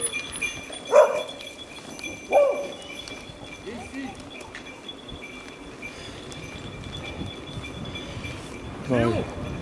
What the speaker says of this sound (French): Hop là, les chiens de chasse.